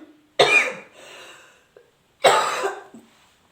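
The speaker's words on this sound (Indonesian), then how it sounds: "Kalau batuk harus begini sebenarnya." Two loud, close coughing fits from a woman sick with flu, asthma and spring pollen allergy, each a harsh burst trailing off over about a second, separated by a quieter wheezy breath.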